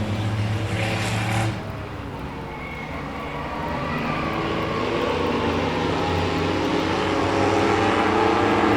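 Race cars roar together at the green flag of a TACU Credit Union feature race on an oval track, a loud continuous engine drone that builds steadily, with a brief high whine near the start.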